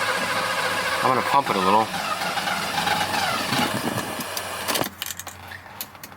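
A Mercedes-Benz W126 380SE engine cranks and idles roughly, with an uneven, pulsing rumble that cuts off abruptly near the end, while someone talks over it close by.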